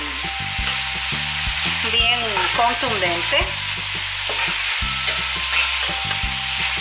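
A spoon stirs corn stew ingredients with pork, cumin included, in a hot pan, giving rhythmic scraping knocks over a constant sizzle, with a brief spoken phrase over it midway.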